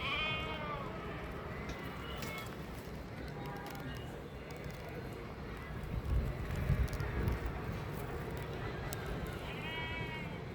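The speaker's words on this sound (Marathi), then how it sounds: "शेळी पण आहे मेंढी पण आहेत" Several goats and sheep bleat at intervals from a moderate distance, over faint wind and background voices in an open outdoor setting.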